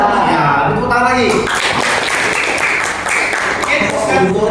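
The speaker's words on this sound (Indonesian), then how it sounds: "Ya, tepuk tangan lagi." Classroom applause for a student group's presentation, a dense steady patter of many hands clapping from about 1.5 seconds on, mixed with voices chatting through it.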